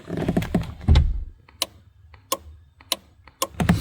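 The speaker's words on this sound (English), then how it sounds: "you can probably hear the relay clicking away" Sharp mechanical clicks from a fan relay in a classic Mini van repeat at irregular intervals, close and distinct, after a few seconds of clattering handling noise.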